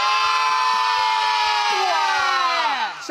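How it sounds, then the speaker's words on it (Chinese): A crowd of children in a kids' TV show audience cheers and screams together, one loud sustained wave of high voices that holds steady and then tails off at the end. "小朋友，掌声鼓励鼓励， 再来给我一点欢呼声。"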